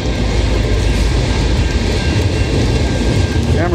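A Norfolk Southern freight train rolls past in pouring rain, a loud, continuous close-up roar of wheels and cars mixed with heavy rain noise, with faint rail squeals near the end.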